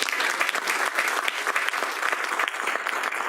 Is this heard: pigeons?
no